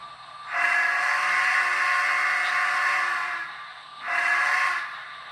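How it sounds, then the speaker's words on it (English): A loud steam locomotive whistle blows one long blast, pauses briefly, then sounds a shorter second blast. "Horn, whistle, I should say whistle."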